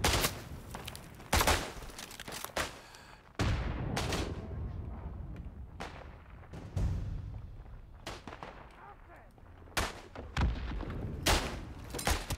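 Irregular gunfire crackles in a World War I battle in the video game Isonzo, with sharp shots and volleys scattered near and far over a constant rumbling battlefield din.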